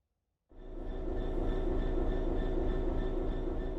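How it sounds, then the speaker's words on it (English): A BR Class 66 diesel-electric locomotive in Train Sim World 4 starts up after a short silence, then holds a steady, loud engine rumble with a constant droning hum, heard alone. "This is a BR Class 66 diesel-electric locomotive"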